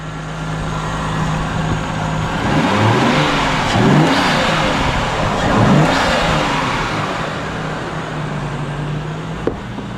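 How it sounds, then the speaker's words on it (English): A Nissan R32 Skyline engine with a custom HKS intake revs up and down with a loud rushing whoosh of turbo intake air, steady and close, with no talking. "that pressure is just blowing through my intake"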